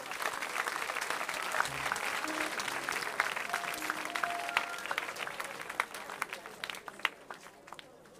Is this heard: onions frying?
no